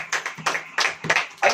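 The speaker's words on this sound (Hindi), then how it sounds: "ताली बजाइए।" A congregation at a Hindi-language church sermon claps in several separate bursts, close and moderately loud, with no talking.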